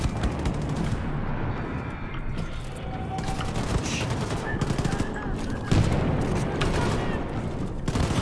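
Sustained rapid gunfire from a Wolfenstein 2 firefight, with dense bursts of shots and occasional heavier blasts rattling on without pause, loud and close over a rumbling battle backdrop.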